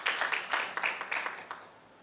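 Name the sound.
audience applause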